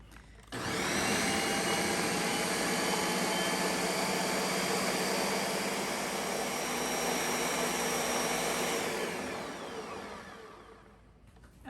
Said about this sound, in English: And now I'm just going to blend that up until it's all smooth.